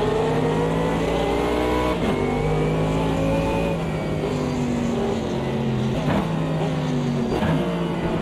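Mercedes AMG GT3 racing engine at Mount Panorama in Automobilista 2, a loud, steady high-revving roar with gear changes and shifting pitch, heard alone with no talk.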